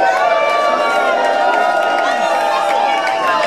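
A large crowd at the Amsterdam Cannabis Cup awards in the Melkweg cheering and whooping, a loud, continuous roar of many voices with shouts rising above it.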